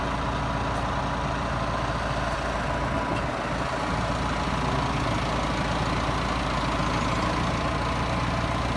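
Tractor running a roller over a silage pit on a farm, its engine holding a steady low drone throughout, mid-distance and unbroken, with no talk.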